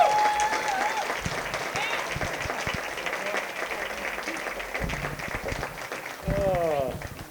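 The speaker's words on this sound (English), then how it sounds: "give John a great big round of applause as he comes up here" Applause at a chamber of commerce awards evening as an honoree walks up, with moderate clapping from the room and voices talking over it.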